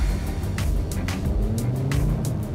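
A 400 hp Audi accelerates hard on a challenge course, its engine a steady loud roar with repeated rising surges, heard close and without talk.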